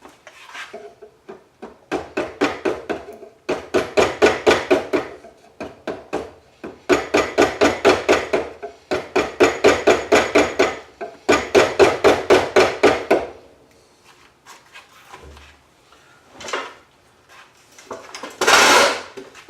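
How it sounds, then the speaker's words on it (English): Chisel hand-carving out a wooden model boat hull, rhythmic clusters of sharp scraping cuts in several long bursts with brief pauses between, close and loud, ending with a few isolated strokes. "why am I chiseling this out now?"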